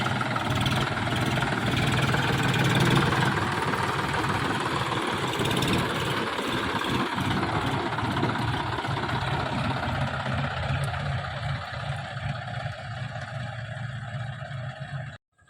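A tractor engine idles on a village road, a steady low rumbling drone with mechanical vibration that holds evenly for about fifteen seconds before cutting off abruptly at the end, no talking.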